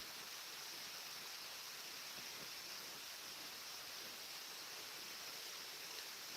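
A waterfall roars steadily as a broad, even rush of water. It sounds fairly distant and continuous, with no voices over it.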